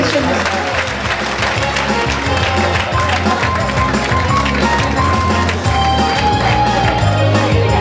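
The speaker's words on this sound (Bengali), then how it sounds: "করতালি হবে।" Applause at a Bangladesh University award ceremony: many hands clapping in a dense, continuous patter, loud and close, lasting the whole moment without a break.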